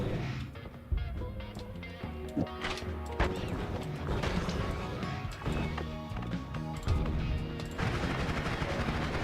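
Chaotic explosions and bursts in a video game, sharp repeated cracks and thuds layered over game music, loud and busy throughout.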